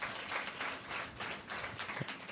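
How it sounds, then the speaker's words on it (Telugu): A church congregation claps at a Telugu Christian sermon, a fairly faint wash of many hands that rises and falls in uneven waves. "చప్పట్లు కొట్టరా యేసేకి."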